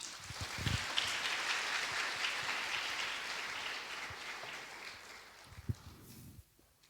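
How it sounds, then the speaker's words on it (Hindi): Congregation applause for Jesus during a Hindi-language church sermon, a steady wash of clapping that holds for several seconds and tapers off near the end. "यीशु के लिए तालियां बजाएं।"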